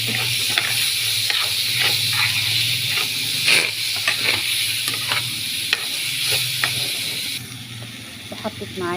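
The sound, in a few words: sautéing orzo pasta with chicken liver in a pan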